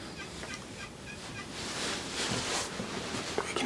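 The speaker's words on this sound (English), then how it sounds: "We can hear some hens down in there yelping too." Faint wild turkey hens yelp in short repeated calls somewhere in the distance, over a steady outdoor hiss, on a snowy spring turkey-hunting opening day in Illinois.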